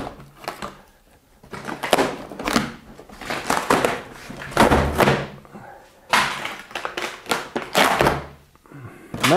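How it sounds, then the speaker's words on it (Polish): An interior room door has its panel torn off by hand, giving repeated loud thuds, cracks and ripping bursts in uneven clusters over about nine seconds, close up with no talking. "Odrywam teraz płytę."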